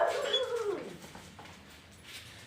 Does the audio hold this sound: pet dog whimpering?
yes